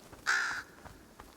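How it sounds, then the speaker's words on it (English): One harsh caw from a crow in the video game Bramble: The Mountain King, loud and fairly close, standing alone over quiet ambience. "You crows have fun."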